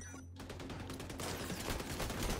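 A double-barrel shotgun firing in the game XDefiant, heard as a burst of loud, dense gunfire and blasts that runs continuously and close, with no voices over it.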